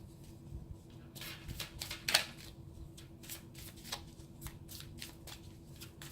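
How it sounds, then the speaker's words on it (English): Tarot cards being shuffled by hand, a run of soft riffling and flicking bursts at an uneven pace, close and fairly quiet over a low background hum. "So while I'm shuffling and trying to get a couple more cards"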